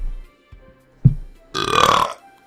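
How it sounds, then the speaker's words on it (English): After drinking a Flying Monkeys Supercollider 2.0 double IPA beer, a man lets out a loud, drawn-out burp, close to the microphone and preceded by a few small swallowing sounds. "Or in the burp."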